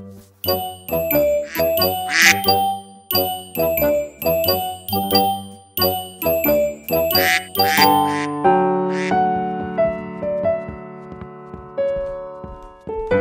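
Cartoon ducklings quack in their nest: short, bright quacks in quick rhythmic bursts over jingling, chiming music, easing into sustained tones near the end, with no talking.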